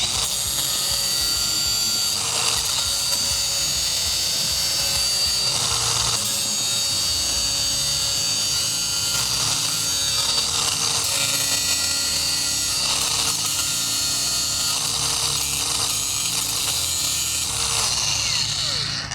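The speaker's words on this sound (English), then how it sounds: "I'm gonna go ahead and shave them a little closer to the wood." A DeWalt grinder shaves down wood close to the surface, a steady loud whine running the whole time with a gritty abrasive rasp and slight shifts in pitch as the pressure changes.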